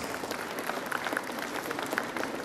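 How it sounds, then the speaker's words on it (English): Audience applause at an engineering college placement success meet, steady dense clapping from a crowd held at an even level throughout, without a clear start or finish. "I think we should give him a big round of applause."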